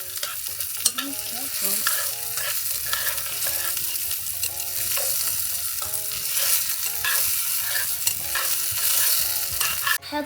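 A spoon stirs food sizzling in a tiny pink mini kitchen pan, steady scraping strokes over continuous frying crackle, close up, with a brief spoken remark.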